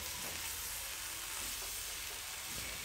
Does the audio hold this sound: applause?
no